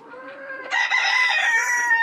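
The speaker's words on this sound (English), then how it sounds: "You should see the spurs on this rooster." A Deathlayer rooster crows once nearby, a loud drawn-out call that rises sharply partway through and holds to the end.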